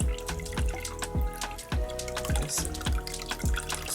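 Warm to hot water running from a tap while a wig is being wetted, a steady splashing flow with irregular dripping and slapping as the hair is handled under the stream, close and fairly quiet.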